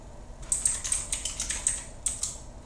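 Light, quick keystrokes on a computer keyboard as a mod name is entered in a Minecraft launcher, a rapid run of close, soft clicks in two short bursts, with no voice.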